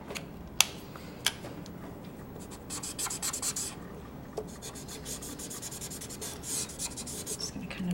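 Color marker strokes rubbed back and forth on paper while blending out a wood-panel rendering, a steady close scratchy squeak with a few sharp taps, fairly quiet and without talk.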